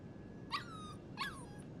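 A puppy named Mushroom in Life is Strange 2 lets out two short, high whimpers about half a second apart, close and faint over quiet background noise.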